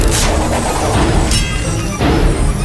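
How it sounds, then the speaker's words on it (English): Grappling hooks fired at a giant robot's feet land in a quick series of loud crashing impacts and metallic thwacks, busy and close, in a dramatized action scene. "The heroes take turns firing their hooks at the robot's feet."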